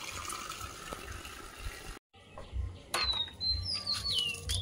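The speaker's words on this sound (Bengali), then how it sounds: "উঠে গাছে জল দেওয়া শুরু করে দিয়েছি।" Cold water poured over garden plants such as red amaranth and Malabar spinach seedlings at dusk: a steady hiss and splash of running water, with birds chirping and tweeting nearby after a short pause.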